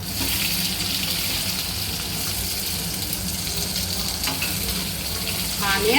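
Mustard seeds, cumin and onion frying in hot oil in a kadai for a spiny gourd (boda kakarakaya) gravy curry, giving a steady, close sizzle with light crackle throughout and a brief scrape of stirring near the end.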